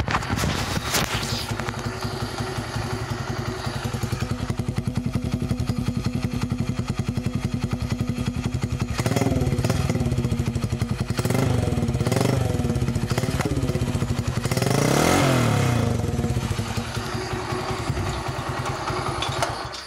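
A Full Throttle 125 motorbike with a Dax engine runs close by outdoors, idling with a steady clattering putter and rising into several throttle blips and revs over about twenty seconds.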